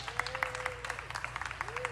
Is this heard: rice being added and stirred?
no